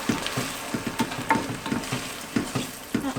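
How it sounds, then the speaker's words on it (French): White wine hits oil-coated risotto rice in a hot pan for a mushroom risotto, giving a steady close sizzle under regular soft thumps and scrapes of stirring. "une fois que le riz est bien enroulé dans l'huile, on ajoute le vin blanc"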